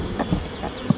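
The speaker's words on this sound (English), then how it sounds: "the bees are in there all queuing up, drinking it and taking it down" Honey bees at a UK hive in spring buzz in a soft, steady drone close by, with a few louder wingbeat passes standing out over the hum.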